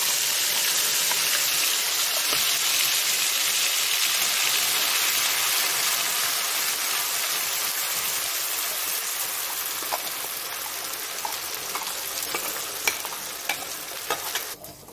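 Ground spice paste mixed with vinegar, frying in a pan over lowered heat, sounding as a loud, steady hiss, with spoon clicks and scrapes picking up toward the end.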